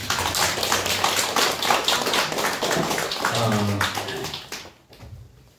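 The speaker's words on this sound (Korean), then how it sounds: "하나님 앞에 영광의 찬양, 감사의 박수를 올려드리겠습니다" A church congregation gives thankful applause during a worship service, with dense, steady hand clapping that carries on and then fades out near the end, with a voice faintly present.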